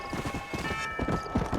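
Horse hooves clip-clop in a steady rhythm on the ground in the video game Red Dead Redemption, clear hoofbeats paced at a walk with a faint background tone.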